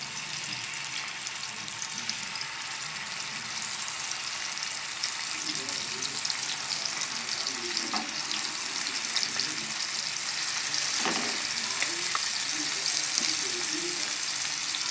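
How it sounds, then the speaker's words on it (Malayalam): Fish fries in hot oil with a continuous, even sizzle and faint crackling, plus a few soft low knocks of handling in the pan, heard up close. "എണ്ണ ഒന്ന് ചൂടായി വരുമ്പോഴേക്കും നമുക്ക് മീനെല്ലാം അതിലേക്ക് പെരുത്തിയിട്ട് കൊടുക്കാം"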